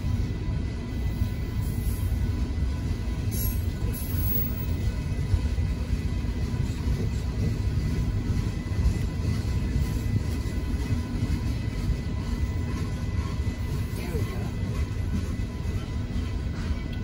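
A northbound Union Pacific freight train hauling limestone rolls past a road crossing in Austin, Texas, producing a steady, continuous low rumble with rail noise that holds at an even level throughout, no voices.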